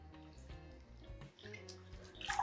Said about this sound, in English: just take a handful and submerge them in the cold water.